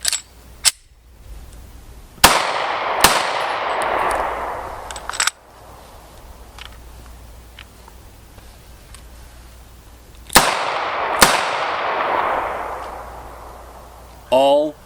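Loud handgun shots from a double action revolver and a semi-automatic Beretta APX pistol, fired singly and in close pairs with long ringing decay, several seconds of quiet between volleys.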